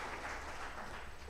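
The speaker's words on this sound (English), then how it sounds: "Could you please give him a big round of applause?" Applause from a conference audience in eastern Uganda, a dense, steady wash of many hands clapping at moderate distance, filling the whole short moment without a break.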